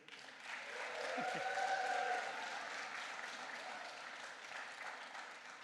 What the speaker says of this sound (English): for one final massive round of applause, Dee Spears